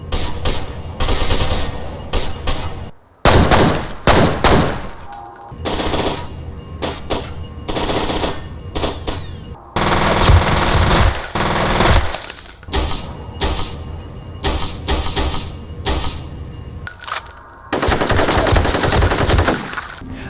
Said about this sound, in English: The guns in F.E.A.R 2 are very lacking when it comes to sound.